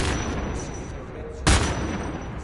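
A single loud burst from an automatic gun turret in the video game Homefront: The Revolution, sharp and close, cutting through a steady rumble of game ambience.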